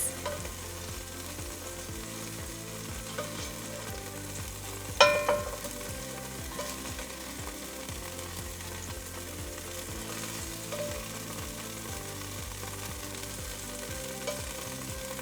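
Pork frying in a soup pan for chili verde, a steady close sizzle that runs throughout, with a brief scrape of a spatula against the pan bottom partway through.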